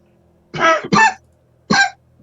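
Three harsh coughs from one person, two quick bursts close together then a single cough after a short pause, loud and close against a quiet room.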